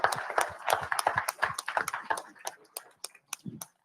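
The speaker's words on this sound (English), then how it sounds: "Let's give them a round of applause." A room full of people gives a round of applause at a live driver meeting, a dense burst of clapping that thins out over a few seconds into scattered claps.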